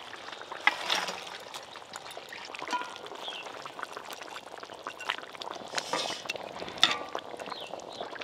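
A pot of catla fish curry gravy simmering with fried fish added, giving a soft, steady bubbling and liquid sputter with brief louder splashes, close and fairly quiet with no talk.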